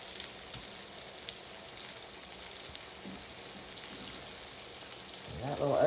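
Okra cakes and green tomatoes frying together in hot oil give off a steady, close sizzle with crackling spits, growing a bit louder toward the end.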